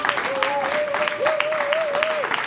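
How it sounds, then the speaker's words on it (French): An audience at an independent book fair claps in a steady round of applause, with a sustained tone or voice audible over the clapping. "vous pouvez l'applaudir"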